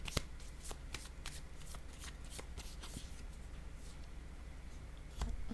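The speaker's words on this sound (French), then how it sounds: "je vais déposer une autre carte dessus." Oracle cards handled close and quiet, with soft rapid shuffling and sliding flicks as cards are laid down one on another, the papery texture continuing steadily throughout.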